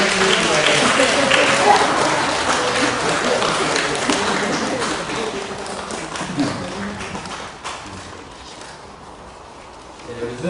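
Applause from a church congregation at a Sunday service, honouring the Sunday school teachers: a dense patter of clapping that starts full and gradually thins and fades, with voices audible underneath.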